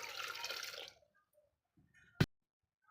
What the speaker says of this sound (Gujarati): એમાં આપણે થોડું નાખી દઈશું પાણી